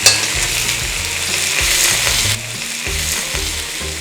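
Tomatoes stir-frying in a hot wok or pan for tomato scrambled eggs, a loud steady sizzle with rhythmic scraping and tossing strokes of the spatula, close up with no talking.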